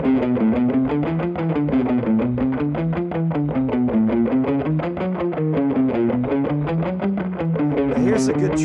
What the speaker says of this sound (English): I'm practicing my down-up picking, and I'm using distortion with it.